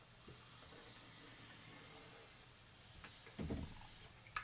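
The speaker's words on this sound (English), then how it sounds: "Spraying is my superpower. And just spray nice and light." Light spray of fabric adhesive misted onto quilt fabric, a soft continuous hiss lasting several seconds, followed by a couple of brief handling rustles near the end.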